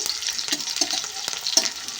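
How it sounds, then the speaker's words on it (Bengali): Small fish frying in oil, a continuous crackling sizzle with pops and occasional spatula stirring, moderately close and without voices. "মাছটা ভাজা হয়ে গেছে"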